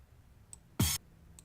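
One short, punchy synthesized hit made in FL Studio, with a downward-sweeping low tone and bright noisy burst, loud and brief against near silence, with faint clicks around it.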